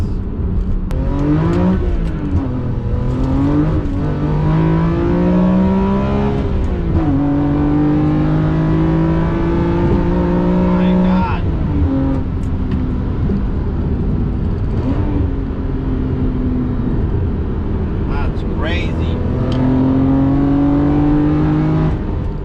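A BMW E46 M3 with a CSL airbox revs repeatedly, its loud intake roar rising and falling in several pulls over a constant low mechanical drone.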